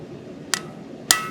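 Two sharp metallic taps of a blacksmith's hammer on an anvil during forging practice, close and ringing, spaced about half a second apart over low background noise.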